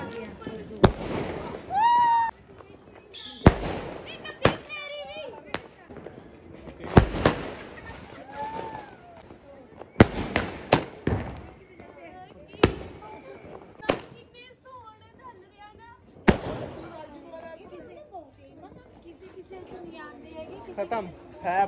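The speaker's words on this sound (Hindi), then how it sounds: "बॉम्ब शॉट भी है वो दिखाऊंगा आप चला के भाई अभी" Diwali bomb shot fireworks go off in a string of sharp, loud bangs and crackles at irregular intervals, with people chattering and calling out throughout between the blasts.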